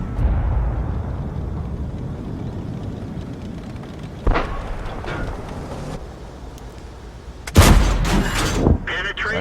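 Tank gun fire in World of Tanks, an M56 Scorpion shooting at a TOG 2: two sharp blasts about three seconds apart, the second louder, over a steady battle rumble.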